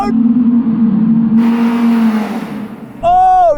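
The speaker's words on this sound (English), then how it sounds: "Once again, that Quattro all-wheel drive just digs in, doesn't it, once you start moving and getting some speed up." An Audi R8 Quattro on winter tires drags away in a race, a loud close engine drone holding steady then fading, before a sharper high rev surge at the end.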